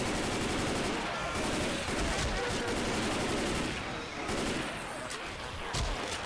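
Weapon fire from a modded Left 4 Dead 2 match where a grenade launcher is in use, a dense, continuous barrage of shots and blasts that fills the whole stretch without letting up.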